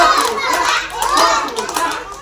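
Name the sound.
children clapping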